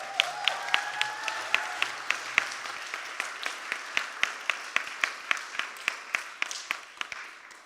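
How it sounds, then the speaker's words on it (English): Audience applauding at the close of a technology and innovation conference, a steady patter of clapping with sharp individual claps standing out over about eight seconds, with brief murmur of voices at the start. "So can we all put our hands together for Yash, please?"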